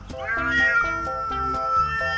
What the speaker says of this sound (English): I heard they also can make sound like cat.